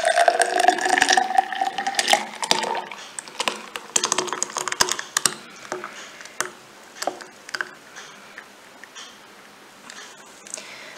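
Blended juice for an avil milk drink pouring into a glass, a liquid stream in the first few seconds followed by scattered clinks and taps, fairly close.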